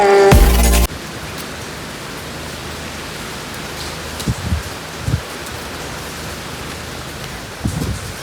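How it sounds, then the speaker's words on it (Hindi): Steady early-morning rain falls in a broadband hiss throughout, after a brief loud burst at the start, with a few soft thumps and knocks surfacing near the end. "बहुत सुबह बारिश हो रही है"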